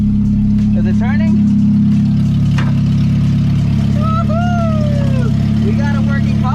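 K-swapped Toyota MR2 engine running steadily in gear with the clutch in, a loud, constant low drone held close throughout, while people talk over it.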